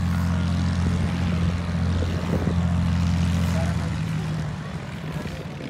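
A propeller aircraft drones steadily and loudly at close range, its low engine hum holding for several seconds before easing slightly toward the end.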